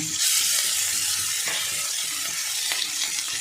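Garlic paste and ginger paste sizzle in a pan for a chilli egg potato dish, a steady frying hiss with a few soft stirring scrapes and clicks, close and continuous without talk.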